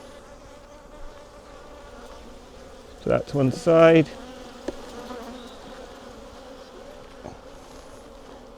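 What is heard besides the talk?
honey bees buzzing at hive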